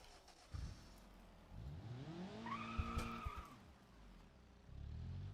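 Car in the BeamNG.drive video game driving and skidding, engine tone rising with a tire squeal swelling mid-clip before settling back to a steady engine hum, with no talk.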